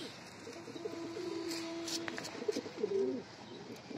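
A male Giribaz pigeon coos nearby in repeated soft, throaty rolling calls, with a few faint chirps and light background noise.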